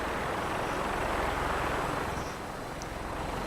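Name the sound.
video game helicopters flying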